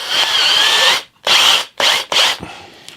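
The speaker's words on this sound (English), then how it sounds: "Okay, now I'll load that into my" A power drill loaded with a homemade tool for cutting recessed control dips in an electric guitar body whines loudly in four bursts: one long run, then three shorter pulses with brief pauses between them.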